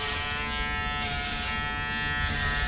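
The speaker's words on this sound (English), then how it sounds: "And we're gonna follow that up using a shaver" An electric shaver buzzes steadily and close while shaving the lower part of a client's bald head.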